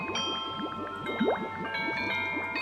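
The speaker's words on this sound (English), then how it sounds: "Oh, the bells." Bells in the Tangle Tower video game chime a melody of bright ringing tones that overlap and sustain, with a busy plinking pattern underneath, no voices.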